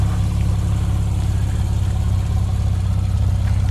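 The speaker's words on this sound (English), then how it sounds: "That exhaust sounds incredible." A car engine idles steadily with a deep, rumbling exhaust note, low and continuous with no talking.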